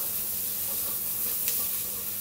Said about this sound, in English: So we're going to cook the onions.